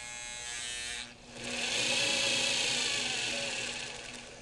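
A Singer 237 sewing machine with a needle that engages on its own whirs with a steady motor hum, briefly dips, then returns louder and sustained, with no voice over it.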